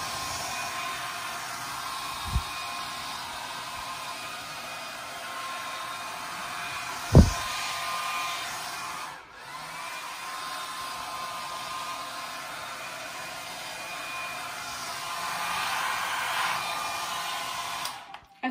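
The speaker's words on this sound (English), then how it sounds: "then we're just gonna blow dry it on, what is it called? Heat or high or whatever." A hair dryer on high heat blows steadily over damp hair, a close, continuous loud whoosh with a couple of brief knocks and a short dip midway as the airflow shifts.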